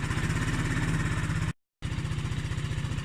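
An Aprilia Scarabeo 500 scooter engine hums steadily with a pulsing, throbbing beat while riding, cut off by a brief moment of silence before resuming.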